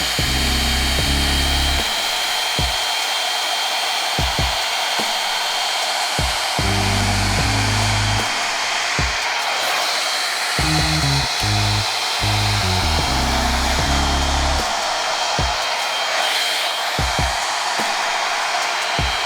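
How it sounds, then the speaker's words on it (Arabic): A hot air brush dries long hair with a loud, steady blowing roar that runs the whole time, its motor whine broken now and then by short bursts and bumps as the brush moves through the hair. "فانا الاول هستعمل الجزء ده على كل شعري، هنشف كل شعري"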